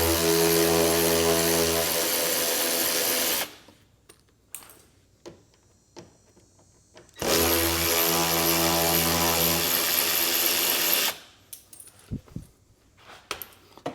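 Power driver backing out two T15 screws behind the mud flap of a C8 Corvette, two long loud whirring runs separated by a quieter stretch with small clicks and handling noises, close up and without speech.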